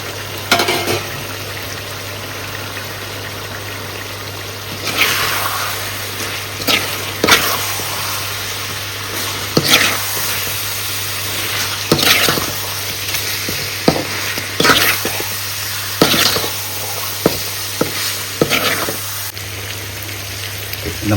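Chicken gravy sizzles and bubbles in a pan with garam masala, pepper powder, cumin powder and coriander powder, a steady frying hiss broken by repeated scraping stirs of a spoon, close and fairly loud, with no talking.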